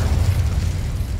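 A fiery Incendio spell cast in Hogwarts Legacy bursts out as a steady, dense low roar, loud and sustained for about a second with no voices over it.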